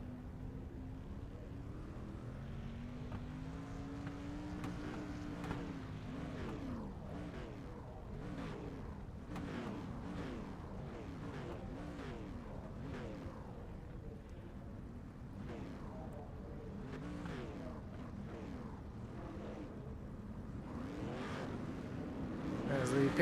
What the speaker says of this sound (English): As the pace car gets rolling and the field starts moving as well